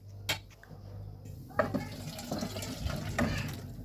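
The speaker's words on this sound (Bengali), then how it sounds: "এখন একটা অন্য পাত্রে ঢেলে নেব।" Thin fish curry with potatoes being poured from the cooking pot into another pot, a soft splashing, gurgling pour with a couple of clanks of the pot, close by and fairly quiet.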